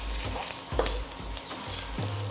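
Okra stuffed with masala fries with onions in a pan while being stirred, a soft sizzle broken by a few rhythmic scraping strokes at roughly half-second intervals; no voices.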